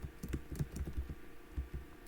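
Keystrokes on a computer keyboard while entering text in the GNU Emacs editor, a steady run of light clicks with small irregular pauses, close up and alone with no talk.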